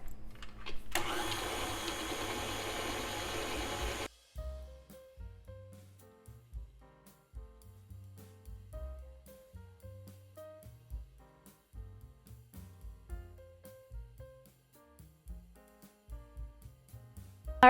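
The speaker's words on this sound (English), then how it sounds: "I'm gonna be using a stand mixer for this quick little tutorial" A stand mixer whirs steadily while creaming sugar for a vegan vanilla cake, a loud continuous motor hum for about three seconds before it stops, followed by quiet background music.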